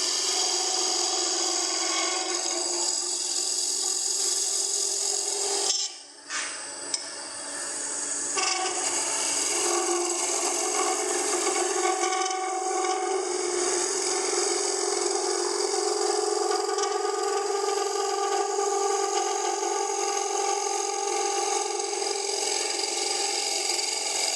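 A freshly honed skew chisel cuts wood on a spinning lathe while a spoon and spatula are turned, giving a steady loud whirring scrape with a brief dip near the start, then continuous cutting to the end.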